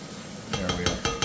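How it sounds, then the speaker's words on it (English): A mushroom and zucchini risotto is stirred in a pan, starting about halfway through with five or six quick scraping strokes in a steady rhythm over a soft sizzle. "We'll give this a little stir just to make sure nothing's sticking to the bottom of the pan"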